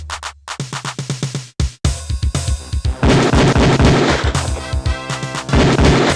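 Rapid volleys of Beretta pistol shots crack out at a police shooting range in the Police Quest IV video game, sharp loud reports in quick bursts with a short pause, then a denser run of overlapping gunfire.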